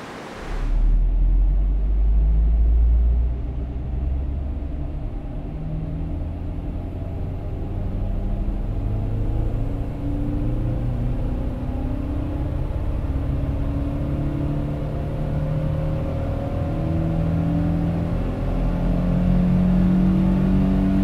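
A rare turbocharged Porsche engine running on a dynamometer, a loud sustained rumbling drone that swells early, then holds steady with rising and falling tonal whine for about twenty seconds, with no talking.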